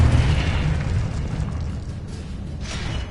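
Confringo spell blast in Hogwarts Legacy on PlayStation 5, a heavy booming explosion at the start that rumbles and fades, with a second burst near the end.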